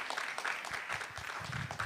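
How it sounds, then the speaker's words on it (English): An audience at a stress-management event applauds the women of an organisation's board, a dense wash of many hands clapping at once, moderately loud and sustained. "give these ladies an applause"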